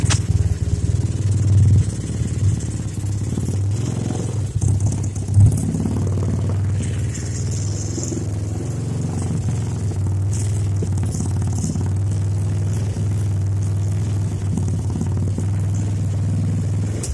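A Roma Revver 150 scooter, just back from the parts yard with its breaker wiring repaired, runs with a steady close-up engine drone for about seventeen seconds, with a few rattly bursts and small revs near the start.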